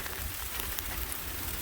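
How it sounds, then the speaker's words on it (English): Freezing rain falls steadily outdoors in winter, a dense even hiss of patter with faint scattered ticks and no voices. "Freezing rain."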